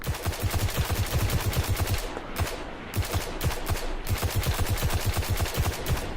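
The Khvostov exotic pulse rifle fires in the video game Destiny, loud rapid bursts of sharp shots in quick rhythmic groups with brief pauses between volleys, close and continuous throughout.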